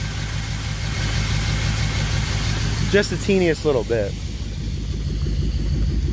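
An LS V8 swapped into the Ecto-1 idles with a steady low rumble and slight unevenness, as if missing on a cylinder or two; someone speaks briefly over the engine partway through.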